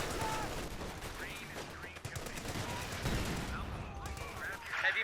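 Heavy machine gun fire rattles in bursts in the Company of Heroes 2 strategy game, mixed with other battle sounds at a moderate distance, with a commentator's voice in the background.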